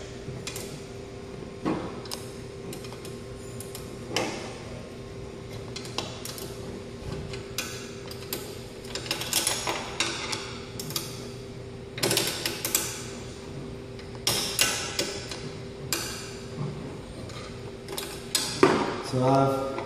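A 10 mm open-end wrench clicks and creaks against the bolt lock nut under a Speedball Boss Series pottery wheel, with scattered metallic ticks and taps close by in a quiet room.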